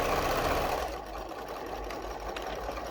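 A sewing machine runs continuously while stitching an apron, with a steady, close mechanical hum and a fast rattle. There is no talking.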